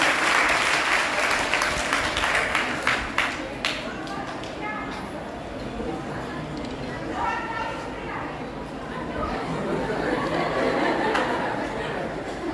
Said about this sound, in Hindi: इनके लिए तालियां बजाइए भाई।